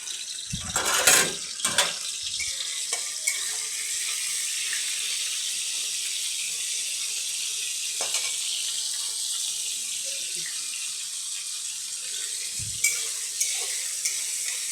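Prawns frying in hot oil, producing a steady, moderately loud hiss and sizzle throughout, with a few sharp clatters of a utensil near the start and end.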